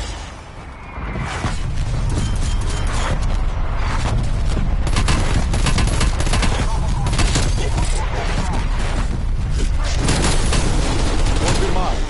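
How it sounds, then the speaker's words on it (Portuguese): Artillery strikes and gunfire in a video game: a dense, continuous barrage of booms and rattling shots fills the whole stretch, loud and close, with voices talking over it. "Marcando alvos de artilharia."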